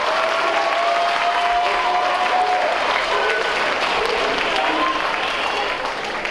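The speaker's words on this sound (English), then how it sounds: "I'd like everybody to give him a round of applause for being a real hero" A large crowd at a high school NJROTC Black History Program ceremony breaks into loud, sustained applause, a thick, even roar of clapping that holds for over six seconds and tapers off slightly at the very end.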